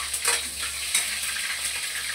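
Squid adobo sautéing in a hot pan, a steady close sizzle with brief stirring scrapes and clinks, no voices.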